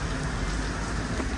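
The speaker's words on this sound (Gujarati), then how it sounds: "અને વરસાદી વાર બહુ ગાજે" Steady, dense downpour hisses evenly across the whole stretch during a storm in Patan, loud and unbroken with no clear thunderclap and no voices.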